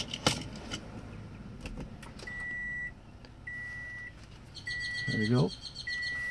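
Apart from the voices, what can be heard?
Toyota Camry being switched on, with beeps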